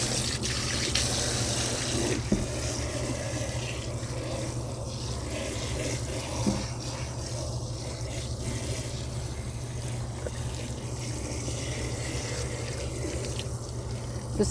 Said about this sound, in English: you want to make sure that you rinse it out thoroughly